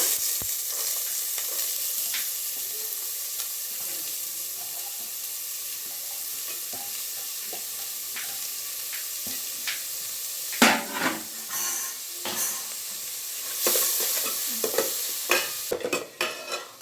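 Chopped onion, carrot and beans sizzle steadily in a pan for a vegetable soup, with scraping stir strokes and utensil clanks growing busier toward the end; no talking.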